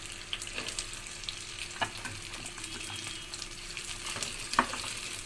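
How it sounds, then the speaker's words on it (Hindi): Okra (bhindi) frying in a generous amount of oil gives a steady, soft sizzle with scattered crackles and a few sharper pops, heard close up with no talking. "इतना ऑयल है और इसमें भिंडी फ्राई कर रहे हैं।"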